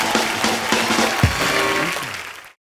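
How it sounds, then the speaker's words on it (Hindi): A studio audience at The Kapil Sharma Show bursts into loud, dense applause, clapping steadily for a couple of seconds before it cuts off abruptly. "एक बार अमाल, काजल और रणदीप के लिए जोरदार तालियां हो जाएं"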